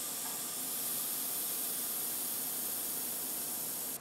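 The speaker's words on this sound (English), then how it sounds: "It is actually pumping air into the system here, which will then make this an aerosol." An IDEEN Funpump airbrush compressor pumps air into the airbrush system, giving a steady, continuous hiss that runs alone and unbroken for about four seconds before cutting off abruptly at the end.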